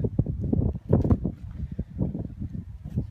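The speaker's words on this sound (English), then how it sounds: "Sorry about the wind, by the way." Gusty wind buffeting an outdoor microphone, producing low, uneven rumbling bursts that rise and fall over a few seconds.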